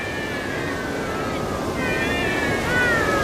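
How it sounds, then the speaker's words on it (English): A cat in the video game Bravely Second: End Layer gives loud, drawn-out meows one after another over a steady wash of background sound, with no talk. "I don't think cats like having their noses tickled, Idia."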